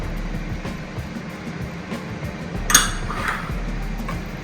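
A wire whisk stirs bread pudding mixture with cinnamon, nutmeg and vanilla in a bowl, giving soft, faint, irregular clinks and scrapes with no talking.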